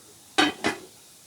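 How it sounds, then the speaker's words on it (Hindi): A metal lid is set onto a pot of chicken white karahi, two quick clanking clinks in close succession, bright and near, in a quiet kitchen. "अब हम इसको ऊपर से 4 से 5 मिनट के लिए ढक देंगे"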